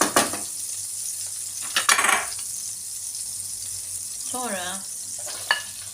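Steady sizzling of chopped onions frying in a pan, with a few sharp clinks of utensils against metal, close and continuous.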